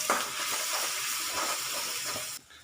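Turmeric, coriander-cumin powder and red chilli stirred in hot oil in a pan for methi shaak, giving a close, steady sizzle and hiss with soft scraping that cuts off abruptly near the end.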